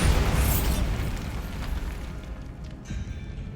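A Bombarda spell blast from the video game Hogwarts Legacy: a loud, close booming explosion that rolls into a fading low rumble and debris crackle, with no one talking.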